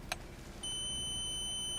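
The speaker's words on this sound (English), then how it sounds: "the meter is beeping, which means continuity" A multimeter held against a car chassis sounds a steady high-pitched continuity beep that starts partway through and holds unbroken to the end, faint over low background hum, preceded by a short click.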